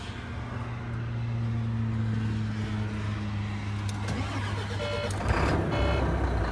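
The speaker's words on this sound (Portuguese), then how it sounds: "Vamos ligar o caminhão. Acionei a chave." A Volvo truck engine turning over with the key and catching, a low steady diesel drone that swells as it fires, with a few high beeps near the end.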